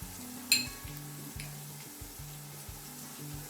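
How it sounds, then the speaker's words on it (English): Garlic fries in a pan for biryani and is stirred, giving a soft continuous sizzle with one sharp utensil clank near the start and a few quieter scrapes. "now I'm gonna put garlic and ginger in there"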